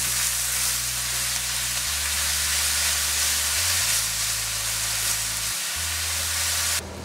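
Turkey frying in olive oil in a hot pan, a loud steady sizzle and hiss that carries on throughout and stops abruptly at the end, with low hum tones underneath.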